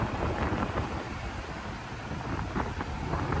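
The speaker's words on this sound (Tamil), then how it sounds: "கரையிலே காற்று இப்படி அடிக்குன்னு பார்த்தீங்கன்னா" Strong wind blowing on a shore, a steady loud roar with gusty buffeting of the microphone and no voices.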